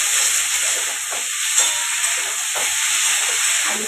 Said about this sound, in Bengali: এখন আলুর তরকারি চাপাচ্ছি